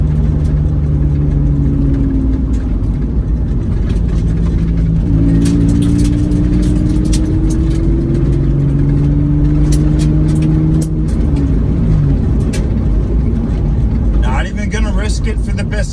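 Mitsubishi 3000 GT driven hard on a full gravel track, engine droning loud and close with rising and falling revs under continuous cabin noise, and gravel crunch and rattle building toward the end.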